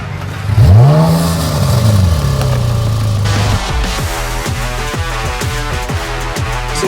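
A Ferrari 458 Speciale with a naturally aspirated 4.5-litre V8 revs hard on the road, its pitch sweeping up and down through gear changes, then settles into a rhythmic, pulsing drone, loud and close with no talk.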